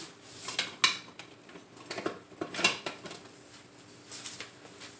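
A metal spoon clinks and scrapes against a bowl and glass canning jars while sliced zucchini and yellow squash are scooped, giving irregular light taps and scrapes, close and fairly quiet.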